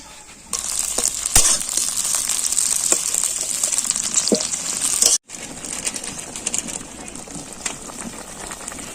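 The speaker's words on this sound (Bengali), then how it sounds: "তেলের মধ্যে পেঁয়াজ ভাজা হচ্ছে" Onions fry in hot oil in a pot with a steady, bright sizzle and crackle, starting abruptly, briefly cutting out, then carrying on close and loud.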